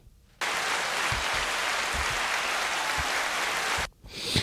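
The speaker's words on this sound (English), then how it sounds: "A round of applause to me." Sudden burst of applause switches on abruptly, holds as a steady bright wash of clapping for a few seconds, then cuts off just as sharply, leaving quiet room noise behind.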